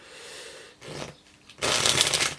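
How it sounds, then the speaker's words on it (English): A pack of playing cards being shuffled by hand, a brief riffle followed by a longer, louder burst of rapid flapping, close and clear with no talking. "can't even shuffle cards properly"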